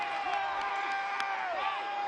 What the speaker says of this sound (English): Crowd doesn't like seeing the kicker come out.